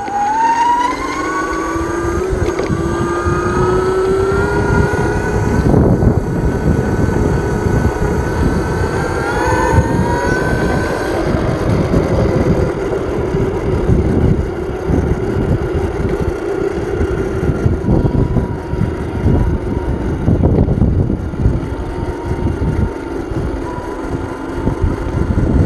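A modified micro e-bike runs continuously with a loud, rising and falling motor whine over heavy wind rumble, close to the microphone for the whole stretch.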